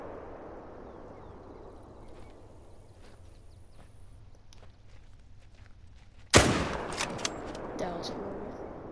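A single loud gunshot in a hunting video game, fired at a bison, cracks out after several seconds of quiet ambient noise, followed by a reverberating tail and faint distant sounds.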